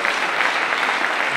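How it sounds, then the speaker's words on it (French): Church congregation applauding, a brief steady burst of dense clapping throughout, fairly loud and even. "Maintenant, vous pourrez applaudir parce que c'est un miracle."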